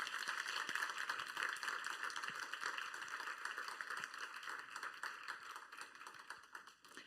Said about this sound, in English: we all have another short round of applause for this great talk